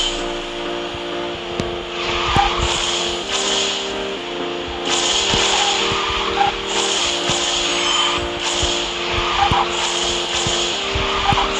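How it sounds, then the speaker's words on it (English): Race car engine roaring with tire squeal and skidding while drifting in the Garena Speed Drifters racing game, a steady loud engine drone with shifting pitch and repeated screeches throughout. "This car gets faster after some time, so it should be able to come back."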